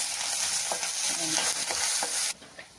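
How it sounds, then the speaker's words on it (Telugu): Green chilies and onion paste frying in hot oil for a tamarind curry with small fish, a steady close sizzle with a few stirring scrapes that cuts off abruptly near the end. "చింతకాయ కూరకి పచ్చిమిరపకాయలు ఇలాగా ఆయిల్లో వేసుకొని కొంచెం ఉల్లిపాయ పేస్ట్ వేసుకొని"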